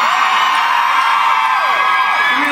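Large concert crowd of women at a show screaming and whooping loudly, a continuous high-pitched wall of cheering.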